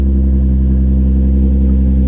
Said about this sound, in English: right out the gate, it's idling quite a bit smoother